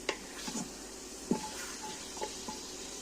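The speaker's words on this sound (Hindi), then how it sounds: "इसको मैं थोड़ा और सौते करूँगी।" Mutton sautéing in a pan for a Kashmiri-style soup: faint, spaced scrapes and clinks of a spoon stirring against the pan over a low, steady sizzle, with no talking.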